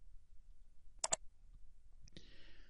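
Two quick, faint computer mouse clicks close together, followed a moment later by a soft second click-like tick, in an otherwise quiet room.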